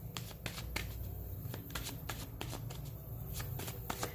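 Tarot cards shuffled by hand close up, a steady run of crisp riffling snaps and soft slides at moderate volume, with no one talking over them.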